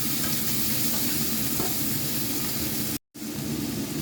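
Mushrooms fry in a pan with a constant loud sizzling hiss, broken by a brief gap of silence partway through before the sizzle resumes.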